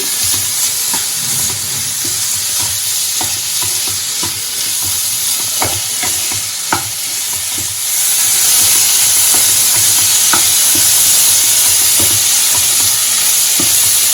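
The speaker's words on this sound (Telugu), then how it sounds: "ఇప్పుడు కొద్దిగా కొత్తిమీరను చల్లుకుని మళ్ళీ వేపుకుందామండి" Tomato and chilli fry with coriander in a pan for egg burji, giving a continuous loud sizzle with scattered clicks of a spatula stirring, and the hiss grows stronger partway through.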